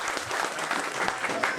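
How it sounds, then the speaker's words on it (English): Indoor crowd applause at a station museum opening, a short burst of dense, even clapping from a small gathering, close and steady throughout. "So can we give them a round of applause?"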